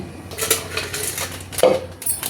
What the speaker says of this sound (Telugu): టీ కాదులేండి హార్లిక్స్ కొంచెం కలుపుకుందామని